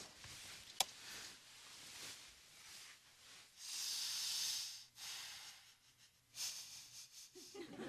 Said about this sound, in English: stop sniffing the pillow